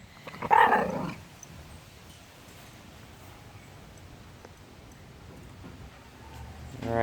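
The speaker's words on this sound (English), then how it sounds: "Got the dogs out, Mr. Chip and a little baby." Dogs in a home garden give a loud, close bark and growl at the start, then the yard settles into steady outdoor background noise with faint, intermittent canine sounds toward the end.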